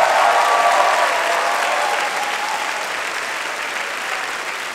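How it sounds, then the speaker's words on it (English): Commencement crowd at a college honors ceremony applauding for the parents, grandparents and families in attendance: sustained, dense clapping from a large audience, steady and loud throughout, easing slightly toward the end with no talk over it. "let's give all the parents and grandparents and aunts and uncles and siblings in the audience a big round of applause"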